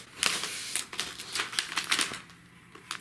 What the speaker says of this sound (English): Let's take the back plastic off.